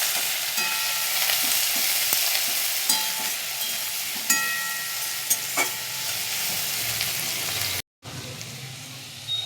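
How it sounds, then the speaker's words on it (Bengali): Oil spattering as spices fry in a pan before onions go in, a loud continuous sizzle with crackling pops, scattered clinks of a spoon against the pan, and a brief dropout near the end. "তেলটা ছিটকাচ্ছে"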